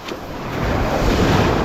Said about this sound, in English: I don't like it when the waves are like this, because they can wash stuff out and away